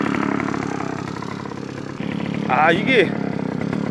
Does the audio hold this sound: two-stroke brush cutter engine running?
yes